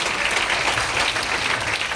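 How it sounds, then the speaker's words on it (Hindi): Audience at a business motivational talk applauding for partners seated in the front row, a steady, dense wash of clapping from many hands, loud and continuous with no gaps. "सभी के लिए जोरदार ताली होना चाहिए प्लीज"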